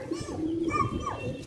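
Domestic pigeons in a Karachi pigeon-keeping flock coo close by: a couple of soft, rolling coos with a rising-falling tone, set against faint background noise.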